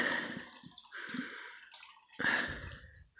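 Diesel fuel drains from a truck's fuel filter into a dirty drain pan, a close, steady liquid trickle with dripping splashes that swells into a heavier pour near the end.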